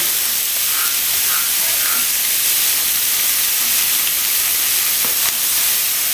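Scallops searing in a hot pan give a steady, loud broadband hiss and sizzle that fills the whole stretch, close up and without pause.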